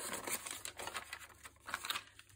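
Close, quiet paper handling while preparing a mixed media piece, with crisp crinkles and short rustling snips and tears coming in uneven bursts, no talking.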